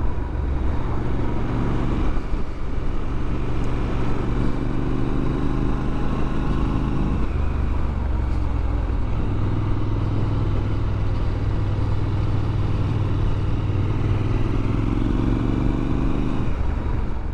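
A 2023 Triumph Scrambler 1200XE motorcycle being ridden, its engine a loud, steady drone with road and wind rumble that holds throughout with only slight shifts in pitch.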